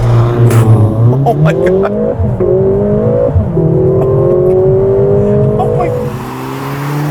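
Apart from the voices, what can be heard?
Mercedes-AMG GLA 45 launch control acceleration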